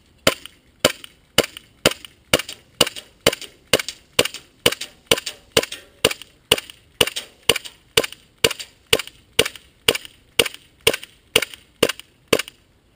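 A gas airsoft pistol running on Nuprol 3.0 gas, fired indoors at no target: about twenty-five sharp, close, loud cracks spaced roughly half a second apart in a steady, unbroken rhythm.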